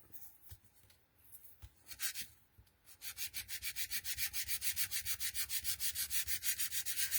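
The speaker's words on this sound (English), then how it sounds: "if you sand it back, it'll look a little bit grey to start with." Glitter card laid on a board being sanded by hand: scattered scratchy rubs at first, then a steady fast back-and-forth rasping rhythm, close and fairly quiet, with no talking.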